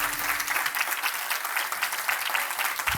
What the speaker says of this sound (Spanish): fuerte ese aplauso al Rey de Reyes y Señor de Señores.